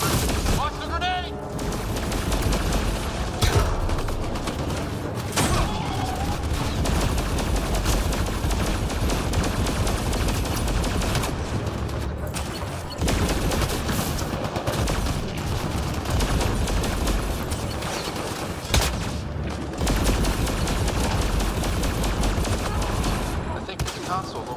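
Mass Effect Andromeda combat: sustained gunfire and bursts of automatic fire rattle almost continuously for over twenty seconds, with booming impacts and a grenade blast mixed in, loud and dense, while voices speak over it.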